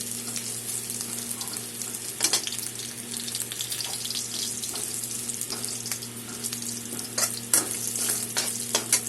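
Ginger fries in a pan with a continuous close sizzle, broken by sharp scraping clicks from stirring, over a faint steady hum.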